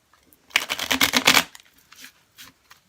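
A deck of tarot cards is riffle-shuffled once in a quick, crisp burst of flapping, followed by a few soft taps as the cards are squared up.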